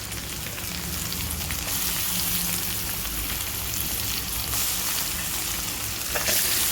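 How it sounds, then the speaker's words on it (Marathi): Chopped onion and tomato frying in a pan for a Malvani-style drumstick and potato curry, a continuous close sizzle with steady crackling and occasional spoon scrapes, no voices. "कांदा जो आहे तो गोल्डन ब्राऊन कलर होईपर्यंत भाजून घ्यायचा आहे"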